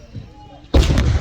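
A cannon fires with a sudden loud blast near a Virginia & Truckee Railroad event, following a quiet lull and then a broad rumbling boom that sustains and decays over the remaining second.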